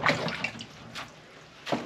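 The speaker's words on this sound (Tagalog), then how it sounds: "So, lalagyan po siya ng ano, tubig." Water splashes into a container for washing apples in a few short, separate bursts with quieter gaps between, close and moderately loud, with no talking.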